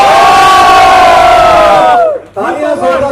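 A big concert crowd cheers in one loud, sustained roar of voices that briefly dips and then surges back, with no applause clearly standing out.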